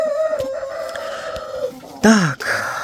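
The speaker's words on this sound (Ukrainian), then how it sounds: "Це менший півник блакитний, ще є більший." A small blue rooster crows loudly and close by, a long drawn-out call, followed by a second short burst of crowing.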